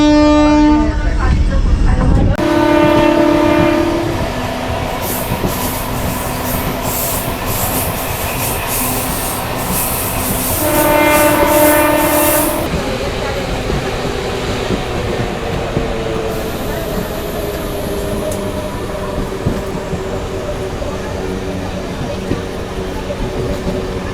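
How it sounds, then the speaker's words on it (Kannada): A commuter train on the Bengaluru airport rail line pulls into Doddajala station, with sustained rumbling wheels and carriage noise, two clear horn blasts near the start and middle, and faint wheel squeal as it slows. "ನಮ್ಮ ಟ್ರೈನ್ ಇವಾಗ ತಲುಪಿಬಿಟ್ಟಿದೆ ಜಲ ಸ್ಟೇಷನ್ಗೆ"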